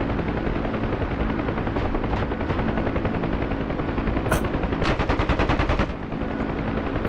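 A Huey helicopter's door machine gun rattles in rapid sustained bursts over the constant thudding rotor and engine drone inside the aircraft, with the firing growing sharper near the end before easing off.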